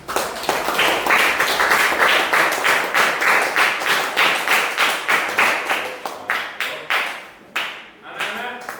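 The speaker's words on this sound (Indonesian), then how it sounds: "Beri tepuk tangan." A classroom applauds a group presentation, with dense, continuous clapping from many hands that starts loud and gradually thins, slows and fades toward the end.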